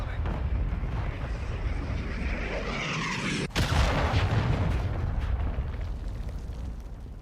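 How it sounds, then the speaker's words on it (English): A deep, rumbling cruise missile explosion in Call of Duty Modern Warfare II, a sustained low roar that breaks into a sharp blast midway, with in-game radio voices speaking over it. "Friendly cruise missile deployed"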